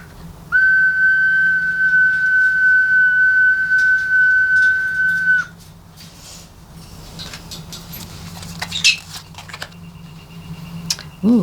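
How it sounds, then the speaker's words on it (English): A small ceramic bird whistle gives a long, steady, clear pure note for about five seconds. Softer rustles, chirps and handling noises follow against a quiet room hum. "I have this little ceramic bird whistle I'm going to blow just to call in the bird spirits"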